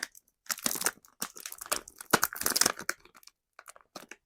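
A crisp packet crinkles and crackles in bursts, loud and close, as the plastic is squeezed and pulled.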